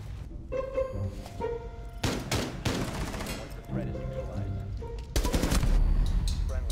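Gunfire crackles in Rainbow Six Siege: several sharp bursts of rapid shots, including a dense automatic volley near the end, ring out loud and close amid game noise, with people talking around them.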